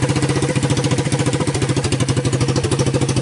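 A Honda ATV engine fitted in a converted EZGO cart runs steadily on its carburetor, with a loud, close, even chugging pulse of rapid regular beats and no break.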